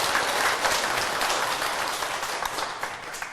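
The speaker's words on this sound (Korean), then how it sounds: "박수 부탁드릴게요." An audience at a Buddhist dharma talk gives a steady round of applause, a dense even clatter of many hands at moderate volume that thins slightly near the end.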